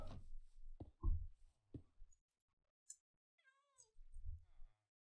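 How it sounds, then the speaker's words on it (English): Cats meowing in the video game Minecraft during a castle build: a few short, mid-distance meows scattered among soft block-placing clicks and thuds, with quiet gaps in between. "Are we going to have to listen to those cats all episode?"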